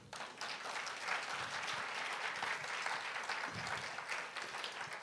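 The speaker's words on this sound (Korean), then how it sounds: "박수 한번 치십시오." A lecture audience claps together, a dense and even wash of applause that holds steady for the whole stretch, fairly distant and soft.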